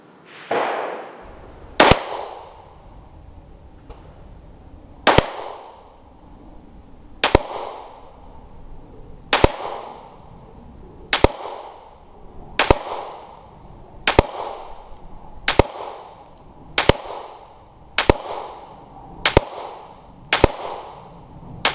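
A Polymer 80 pistol fed from a Glock 17 magazine fires about a dozen sharp, loud single shots at a steady, deliberate pace, each followed by a brief ringing echo, with no talking.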